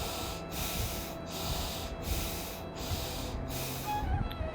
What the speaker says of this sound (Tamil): கண்களை மூடி மெதுவாக மூச்சை உள்ளெழுத்து மெதுவாக மூச்சை வெளியிடுங்க ஒரு 3 டைம்ஸ்